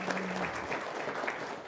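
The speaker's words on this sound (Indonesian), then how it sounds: "Tepuk tangan dong." An audience claps at a talk in a hall, a short burst of steady, moderately loud applause with a faint tone early on.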